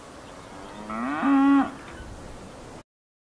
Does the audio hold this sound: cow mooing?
yes